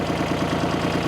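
The 1957 Porsche P133 diesel tractor, a 42-horsepower machine with a five-speed transmission, pulling off in first gear: a steady, close, low diesel chug with a rapid regular knocking pulse.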